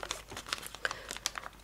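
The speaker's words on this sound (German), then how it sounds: "ich falte das einfach nach innen und drücke es dann auf beide Seiten durch" Origami paper for a carambola model is folded and pressed flat, giving close, quiet crinkles and crisp creasing taps in a quick, irregular series.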